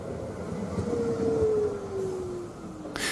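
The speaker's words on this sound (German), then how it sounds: "Da hört ihr gerade, wie das kleine Tram ins Tramdepot fährt." A small tram rolls into its depot: a steady rumbling rail sound with a long, slowly falling tone sweeping across it, ending in a short burst of hiss.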